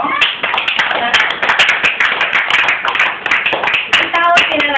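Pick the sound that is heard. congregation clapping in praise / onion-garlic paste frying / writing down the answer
congregation clapping in praise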